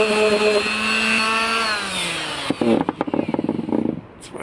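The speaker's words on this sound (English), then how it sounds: "Now we gotta get back sanding." Power sander working on a wooden balance board, a rough buzzing grind that starts partway through after a tonal whine and runs on in uneven pulses, close and fairly loud.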